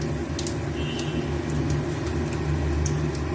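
White cumin seeds temper in hot oil left from frying bori and fish, giving a steady, close sizzle with scattered faint pops over it.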